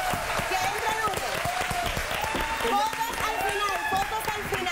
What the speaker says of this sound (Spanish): Aplauso para Lourdes Robles.